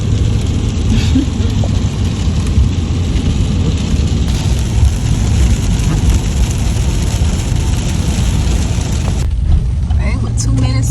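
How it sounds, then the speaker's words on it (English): Steady rain and road rumble fill the cabin of a car driving toward Crescent Lake, a dense, constant wash of noise throughout that drops away abruptly near the end. "Somebody out here riding in the rain."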